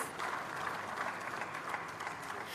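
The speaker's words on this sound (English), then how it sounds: "A round of applause, please." Audience applause at a university convocation, a steady moderate wash of many hands clapping from a seated crowd, continuous and fairly distant throughout the short stretch.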